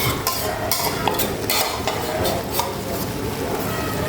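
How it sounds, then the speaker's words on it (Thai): Two cans of canned fish, liquid and flesh together, go into a pot of Thai sour curry with sesbania flowers. It sounds like a continuous simmering sizzle with scraping and metallic stirring clatter from the pot, and no talk. "ใส่ปลากระป๋องลงไปสองกระป๋องค่ะ"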